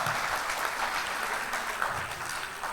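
An audience applauds at a cricket talk event honouring Indian bowler Venkatesh Prasad, a dense, continuous burst of clapping heard alone from start to finish.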